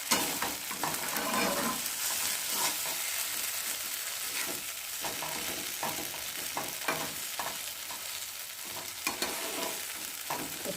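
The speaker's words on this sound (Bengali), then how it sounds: "চলো ভালো করে নেড়ে একটু জলটাকে শুকিয়ে নিই" Flat beans being stirred in a pan as their water cooks off, a steady sizzle broken by repeated scraping strokes of a spatula, close and continuous with no talk.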